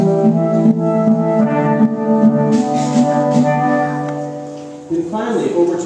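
Steelband cello and guitar pans, a lower-voiced pair of steel drums, strum and double a bass line in a sustained, ringing chordal pattern that shifts near the end.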